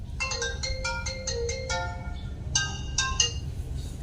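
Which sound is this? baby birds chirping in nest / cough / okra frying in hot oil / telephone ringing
telephone ringing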